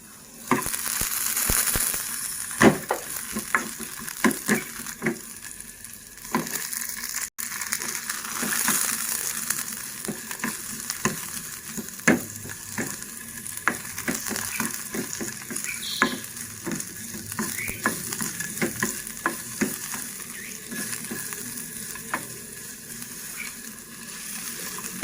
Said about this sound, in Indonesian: Artinya minyaknya sudah panas, kita tumis bawangnya, kita tumis sampai harum